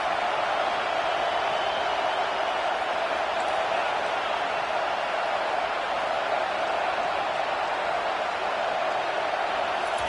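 Stadium crowd at a Miami vs Michigan football game roars for the defense on third down, a dense sustained wash of cheering and shouting that holds steady throughout.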